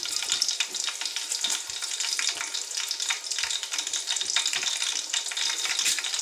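Whole cinnamon, cloves, cardamom and bay leaf fry in hot oil for chicken tahari, giving a steady close sizzle and crackle with small pops throughout and no voices.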